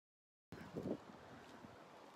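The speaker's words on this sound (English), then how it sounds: "It is such a windy day out right now" Gusty wind buffets the microphone in a steady low roar, with a stronger rumbling burst near the start.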